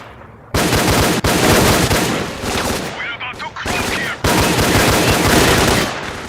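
Bandits open fire in S.T.A.L.K.E.R.: Clear Sky, loud close bursts of rapid automatic gunfire, clattering in dense volleys with a few brief gaps between them.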